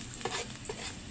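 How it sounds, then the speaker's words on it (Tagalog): Garlic sautéing in a pan, a soft steady sizzle of frying with a few light stirring scrapes, close and fairly quiet, with no talking. "mag-isa na po tayo ng bawang"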